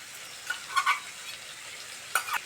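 Spices frying in a pan over a village kitchen fire, with soft sizzling and a few brief stirring scrapes, two louder clusters of crackle near the start and end, no talking.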